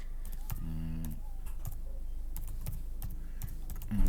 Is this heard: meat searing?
no